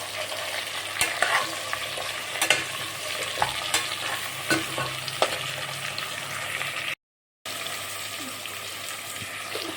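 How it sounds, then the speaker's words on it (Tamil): Onions sautéing in a pan for chicken biryani, a continuous sizzle broken by occasional scraping stirs, fairly close, with a brief dropout near the end before the frying resumes. "நன்றாக ப்ரௌன் கலராக வர அளவுக்கு வெங்காயத்தை வதக்கவும்."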